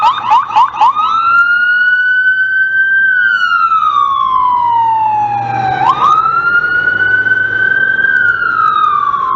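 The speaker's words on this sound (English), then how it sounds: "Puts on the siren just for now." Loud, close police siren wailing up and down in long sweeps, preceded by a few quick yelping chirps, continuous throughout.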